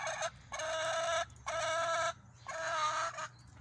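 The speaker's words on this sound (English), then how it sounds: "the chickens are enjoying the day." Backyard chickens out in the snow give three sustained bursts of clucking and squawking, with short pauses between them. The birds sound fairly close and no one speaks.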